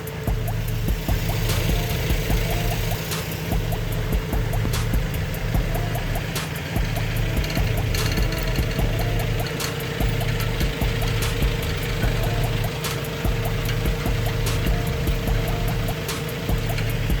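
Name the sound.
ferry engine running on the Mayan River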